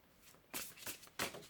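Two quick bursts of cards being shuffled, riffling close by with a short pause between them, no talking.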